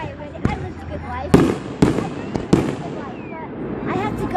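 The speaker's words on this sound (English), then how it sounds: "Wait, I'm gonna make the firework." Fireworks burst in a series of sharp, loud explosions, four or five distinct bangs a second or so apart with crackling tails, while people talk over them.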